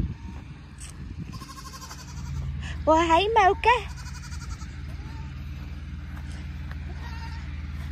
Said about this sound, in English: let's say hi to the goat real quick